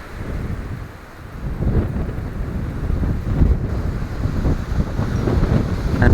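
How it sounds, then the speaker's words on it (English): Wind blowing through trees in a churchyard, a continuous low roaring gust buffeting the microphone that swells and stays fairly loud throughout, with no talk. "try and talk through the wind that's blowing through all these trees"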